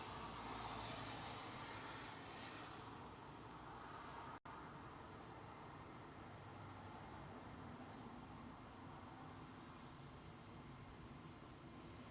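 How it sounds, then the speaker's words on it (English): A British Airways Airbus A380 taking off at London Heathrow, heard as a steady, loud, broadband jet engine roar that holds throughout without talk. "British Airways A380 taking off right now."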